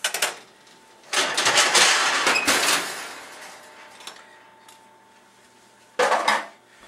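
A pear crumb pie in its dish is pulled from a kitchen oven after baking, bringing a clattering rattle of metal rack and dish, a quiet pause, then a second short clank near the end.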